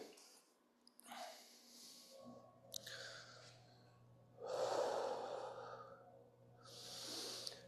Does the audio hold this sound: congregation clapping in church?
no